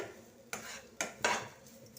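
A thick sweet mixture stirred in a kadai, with three sharp metal spoon clanks and scraping against the pan in an uneven rhythm, close and fairly quiet.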